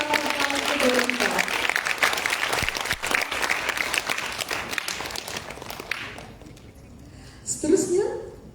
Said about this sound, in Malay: berikan tepukan gemuruh kepada Encik Bahtiar bin Omar